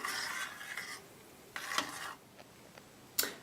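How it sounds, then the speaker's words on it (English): A spoon scrapes and stirs through thickening berry jello mixture in a pot, coming in several short rasping strokes with quieter gaps between them. "I'm going to continue stirring while it starts to thicken up"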